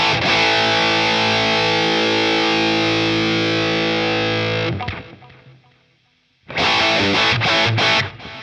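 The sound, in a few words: electric guitar through Danelectro Cool Cat distortion pedal, gain full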